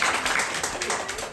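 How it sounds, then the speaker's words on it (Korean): An audience at a family reading festival claps in a short, dense burst of applause that fills the room, with no pause from start to end. "박수 한번 주세요."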